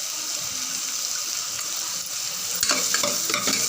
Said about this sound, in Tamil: நல்லா எண்ணெயிலே நல்லா வதக்கி விடுங்க